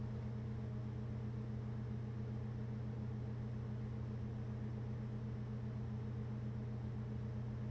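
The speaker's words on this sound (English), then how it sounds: "here's a sample of my entire system with the cooler running at about 1200 RPM" A PC fitted with an Antec Kuhler H2O 1250 liquid cooler, its fans spinning at about 1200 RPM, gives a steady low hum and airy whoosh that stays constant throughout, heard alone with no voices.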